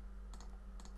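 Two quick, faint mouse clicks applying an effect in Paint.net on a computer, sharp and evenly spaced against a steady low hum.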